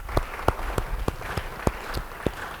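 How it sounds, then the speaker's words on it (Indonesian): Church congregation applauding during a sermon: a loose, moderately loud patter of hands with a handful of sharper individual claps standing out over a steady wash of clapping. "Beri tepuk tangan bagi dia"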